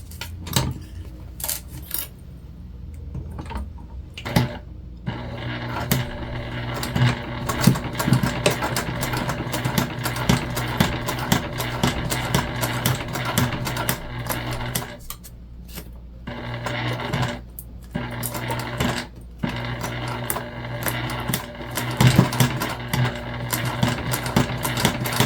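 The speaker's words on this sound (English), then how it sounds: "Okay, and then we're just going to baste these together." A sewing machine slowly basting fabric pieces together over a zipper tape for a pouch wristlet, its motor whirring in long stitching runs broken by brief pauses and small clicks, close up.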